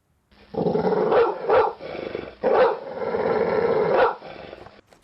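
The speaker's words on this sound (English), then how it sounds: "he taunted me with a murderous bark" Growling, roaring wolf barks from a creature in the PixARK video game, several loud bursts in a row with short gaps, close and without any speech.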